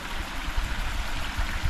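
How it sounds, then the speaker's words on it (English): A river stream flows steadily with a constant close wash of running water, unbroken and without voices. "and it's got a river"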